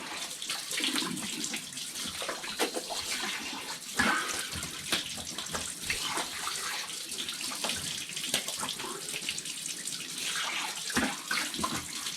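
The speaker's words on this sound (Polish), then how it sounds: "czas się spłukać" Tap water running steadily while shaving foam is rinsed off, a continuous close splashing and gurgling with uneven spatters as hands move through the stream, no talk.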